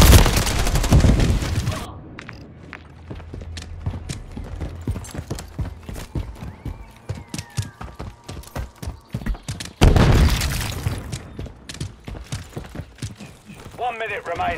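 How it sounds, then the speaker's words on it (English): Gunfire in Modern Warfare 3, heavy bursts of rapid automatic shots at the start and again near the end, with a sparser run of single cracks and clatter between, under occasional voices talking. "Taking fire over here!"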